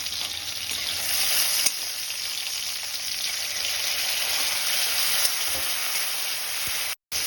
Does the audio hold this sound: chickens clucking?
no